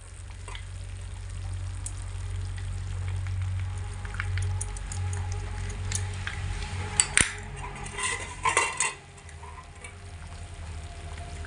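Khichuri in a pot with garam masala just added, the flame turned low, giving a steady soft simmering sizzle with a few light clinks of the spoon stirring near the end before it falls quiet.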